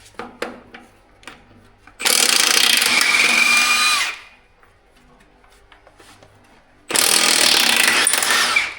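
A power tool loosens wheel nuts on a U302 Super Diesel in two loud, sustained bursts of about two seconds each, separated by quieter handling clatter and knocks.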